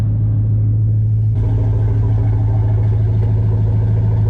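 A 2004 truck with a 5.3L engine and longtube headers runs close by. It gives a loud, deep, steady idle rumble with an even throb, and it swells slightly partway through.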